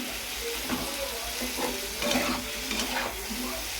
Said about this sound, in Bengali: আমার এই আলু কষানো হয়ে গেছে